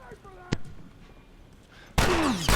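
A gunshot headshot in The Last of Us Remastered, a sharp loud burst near the end after a brief earlier crack, with game sounds and a sweeping tone underneath.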